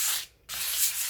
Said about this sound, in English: just rub your fingers over it. Feel where there are any large lumps. Give it a quick rub.